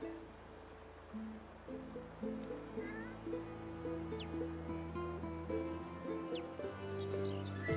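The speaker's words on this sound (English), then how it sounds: "The cat lifts his head and yowls, then focuses on his mutated meal." A cat in Divinity: Original Sin II yowls and meows in several drawn-out, wavering cries over a steady low game ambience, with no talk.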